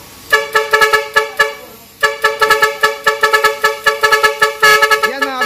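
An eight-tone car horn module plays a rapid melodic sequence of short blasts, loud and close, pausing briefly before continuing its tune.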